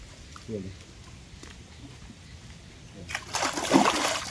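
Water splashing as feet are dipped and washed, a short splash early on, then a louder, longer burst of sloshing near the end over quiet background noise.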